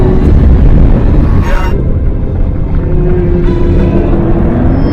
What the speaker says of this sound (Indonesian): kapal selam diselimuti oleh beberapa paus ganas yang tidak biasanya muncul pada kedalaman ini